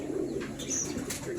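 Domestic pigeons cooing at a home pigeon farm in the Halsa area of Kushtia, Bangladesh, a low soft coo running continuously close by, with faint chirps and wing rustles over it.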